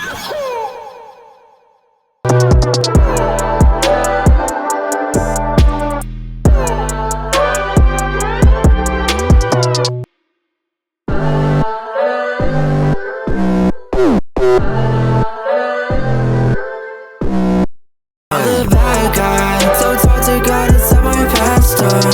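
Music beat built from a sampled sneeze used as a percussive hit, with punchy repeated bass and choppy sections separated by abrupt silences, loud and alone.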